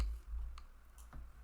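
A computer mouse gives a few faint, sharp clicks spaced about half a second apart against a quiet low hum, with no voices.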